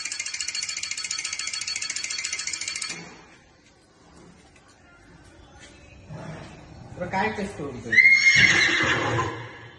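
A boxing arcade machine plays a synthetic horse neigh for about three seconds, loud and steady. Quieter machine rattles and clatter follow, and people talk over them.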